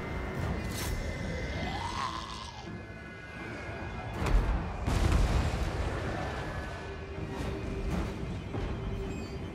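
In the Total War Warhammer 2 battle game, cannon and mortar artillery fires. Several dull booms and bursts sound at moderate distance over a constant rumbling battlefield bed, with the heaviest blasts clustered near the middle.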